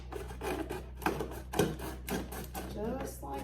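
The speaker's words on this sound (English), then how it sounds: "take you some scissors and just cut around" Scissors snip and rasp around a plastic pot holding a Chinese pink celery plant, a steady close scraping and cutting sound over a low background hum.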